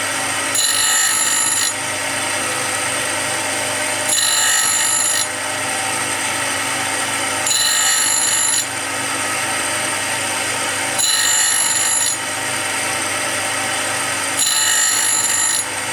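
A saw cutter tooth is ground in repeated passes, a harsh high-pitched grinding rasp that swells for about a second at a time at regular intervals over a continuous motor whine.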